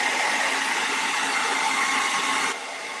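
Hair dryer blowing to dry paint on a Halloween door hanger, a steady loud airy whoosh that drops slightly in level near the end.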